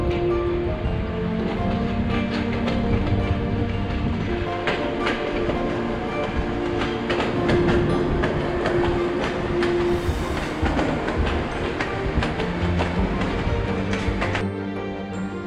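A train rumbles past steadily, wheels clattering over the rails with a sustained metallic roar and occasional squeal.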